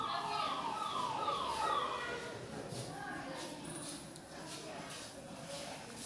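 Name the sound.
ambulance siren or mobile ringtone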